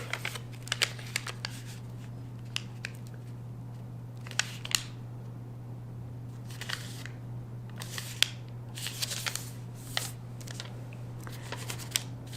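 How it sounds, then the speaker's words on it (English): Paper being folded and creased into an origami jumping frog: soft crinkles and sharp creasing rustles come in irregular bursts over a low steady hum, close and fairly quiet. "Open the paper, rotate, and make another book fold."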